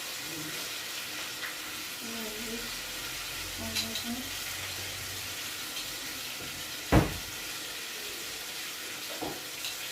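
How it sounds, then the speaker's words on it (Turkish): Steady low sizzling of eggplants frying in oil, faint and continuous, with a couple of soft clatters and a sharp knock near the end. "bak patlıcanlar kızarıyor şu anda."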